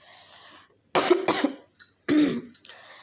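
Several harsh coughs close to the microphone from someone with a sore throat and flu, a quick pair followed by another burst after a short pause.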